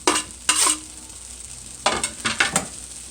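Stirring Worcestershire sauce into sizzling ground beef fried rice, with scraping spoon strokes in two bursts over a constant frying hiss.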